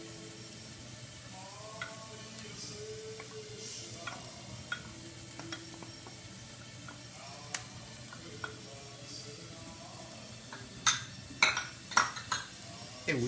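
Garlic and onion sizzle steadily in a frying pan while being stirred, with scattered metallic clinks of utensil against pan growing sharper toward the end.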